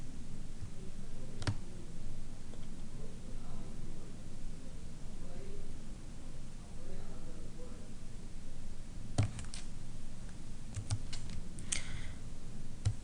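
Sharp computer mouse clicks, a single one early and then a quick cluster near the end, sounding close and crisp over a steady background hiss while an account summary page is opened during telecom product ordering.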